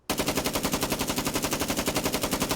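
Rapid automatic fire from an FN FAL (SA58) rifle in Fallout 4, a loud continuous burst of evenly spaced shots with no pause across the whole stretch.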